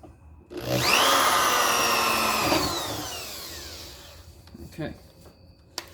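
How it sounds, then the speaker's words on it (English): A power drill whines at high speed for about three seconds, boring into a wooden bench, then spins down, followed by a few faint knocks. "drill the hole into the bench first"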